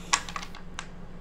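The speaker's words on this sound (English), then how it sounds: "I just shuffled the deck again" A few sharp, crisp clicks and snaps of a tarot deck being shuffled, brief and close, with a faint steady hum underneath.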